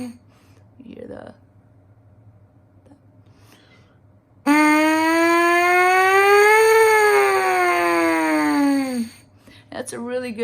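A trumpet mouthpiece buzz in a brass-playing siren exercise, one sustained tone sliding smoothly from low up to high and back down over about five seconds, loud and close, with faint sounds before and after.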